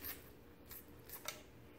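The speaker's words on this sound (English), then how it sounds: "Any fins left over, here's where the scissors comes in." Faint snips of scissors trimming leftover fins off a cleaned catfish, two or three short crisp cuts close by in a quiet setting.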